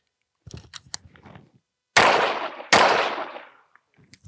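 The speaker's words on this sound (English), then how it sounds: "I got both shots in the alpha zone there" A handgun fired from the draw at a target: a few faint clicks and handling noises, then two loud, sharp shots a little under a second apart, each ringing out and decaying.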